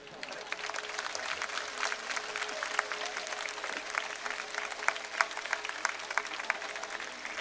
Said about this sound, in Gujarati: તો એક વાર જોરથી તાળીઓ જ પાડે રાખો